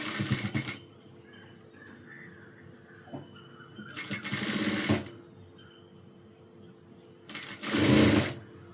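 A sewing machine stitching a cross piece onto a blouse at a quarter-inch seam, running in three separate bursts of rapid whirring with quiet pauses between, close and clear with no talk.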